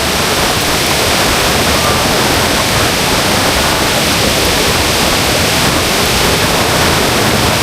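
Steady, loud rush of flowing water pours without pause, a dense hiss filling the whole stretch with no voices.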